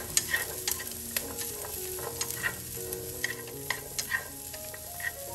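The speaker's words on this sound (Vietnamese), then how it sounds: "Rồi mình cho khoai môn vào luôn nè. Và mình xào sơ lên." Taro pieces stir-fried in a pan, a soft sizzle under repeated scraping and knocking of a utensil against the pan, close but fairly quiet, no voices.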